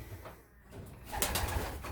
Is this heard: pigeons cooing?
yes